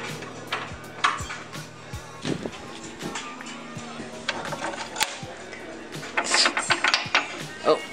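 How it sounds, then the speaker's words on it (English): Hand ratchet tightening bolts on a DIY splitter, giving a series of sharp metallic clicks and ticks at close range, with denser clicking near the end. "Now I'm just tightening all the bolts that I have to tighten."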